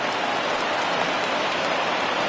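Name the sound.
rain falling during a baseball game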